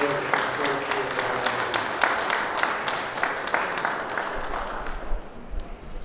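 A church congregation claps hands together at a Christmas carol service, a broad, sustained wash of applause from many people filling the hall, steady throughout and easing slightly toward the end.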